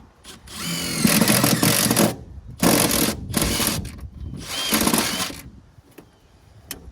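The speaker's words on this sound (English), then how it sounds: "I'm gonna just drill right in the middle of it." A power drill whirs in three separate bursts of a second or so each, drilling a hole while installing a coolant temperature gauge on a 7.3 IDI engine, loud and close, with brief pauses between them.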